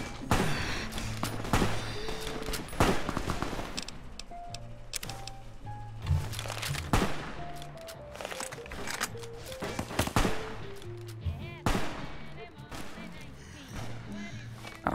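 Hunting rifles fire in Fallout: New Vegas as repeated sharp shots among game effects and music, with a player talking over the action.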